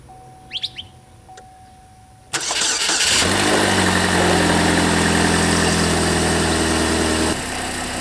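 A high-mileage 2.4L Chevy HHR cranks and fires, then settles into a loud, steady, somewhat noisy idle. Faint bird chirps come before the start.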